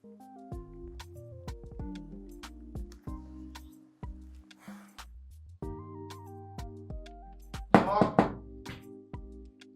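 Several knocks on a door in a Nigerian drama scene, sharp, spaced taps heard over soft sustained background music, with a brief louder rustling burst near the end.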